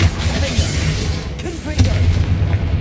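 Confringo fire spell blasts in Hogwarts Legacy, booming explosive bursts with crackling impacts, several hits in quick succession, loud and close, with combat noise in between.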